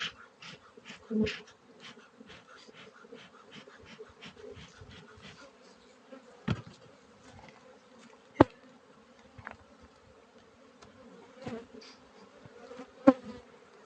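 Honey bees buzzing around an open hive on a Texas ranch, a steady quiet hum close by with individual bees passing loudly near the microphone now and then.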